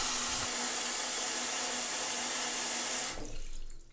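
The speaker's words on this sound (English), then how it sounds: "I am filling the sink full of water" Tap water pours steadily into a bathroom sink being filled, a loud continuous rushing close by that cuts off abruptly near the end, leaving a brief faint drip and settling noise.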